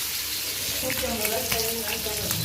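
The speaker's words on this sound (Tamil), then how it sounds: "குழம்பு கொதிக்குது." Steady sizzling and bubbling of a sardine fish curry boiling in a pan, close and continuous, with faint voices in the background.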